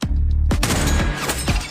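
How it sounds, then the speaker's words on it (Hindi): A sniper's gunshot cracks out and shatters a glass mirror, a sharp loud blast with breaking glass, then a dense burst of further crashing impacts and debris filling the rest of the moment. "लड़की को समझ पाती, इससे पहले ही शीशा तुरंत चकनाचूर हो गया"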